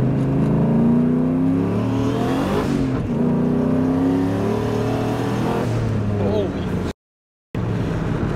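A turbocharged 435 hp newer-generation Ford Mustang accelerates hard in second gear toward redline, its engine note rising loud and close with a steady rough roar through the pull, cut by a brief dropout near the end, with voices talking over it.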